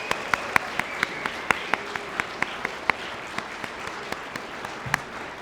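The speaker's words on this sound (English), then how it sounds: "if they can give them a round of applause because of how much work they put in" Steady round of applause for the coaches at the closing ceremonies of the Kawaskimhon National Aboriginal Moot, a crowd clapping continuously with scattered sharper individual claps standing out, no talking over it.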